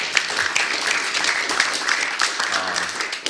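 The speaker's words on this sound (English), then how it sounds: "I wanted to recognize Professor Ellis and give him a round of applause" A room full of people applauds moderator Professor Ellis at an elections and democracy conference, sustained even clapping from many hands at moderate loudness, with faint voices mixed beneath.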